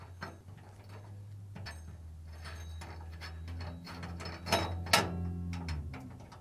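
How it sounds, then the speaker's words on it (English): A 5mm Allen wrench works a bearing bolt loose on a Fisher & Paykel dryer, producing close, irregular metallic clicks and ratcheting ticks over a low steady hum. "using a 5mm Allen wrench, remove the bolt to the bearing"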